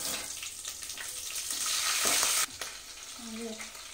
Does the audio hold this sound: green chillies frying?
yes